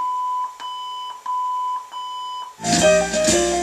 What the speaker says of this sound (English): It will beep and put you in the fader mode.